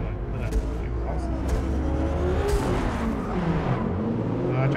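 Race car in Forza Motorsport droning steadily with engine revving and rising pitch, tire noise and a few sharp knocks mixed in, loud and close throughout.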